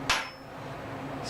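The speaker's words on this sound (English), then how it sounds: "I will get a hammer, start tapping" A hammer strikes the back end of a glaive blade once to seat it, giving a single sharp, close metallic tap that rings briefly over a low steady background hum.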